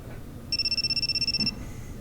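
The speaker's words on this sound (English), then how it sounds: "My cell phone's ringing." A cell phone ringtone chirps from inside a school bag in a visual novel game, a rapid electronic trill pulsing for about a second, clear and moderately loud over faint background hum.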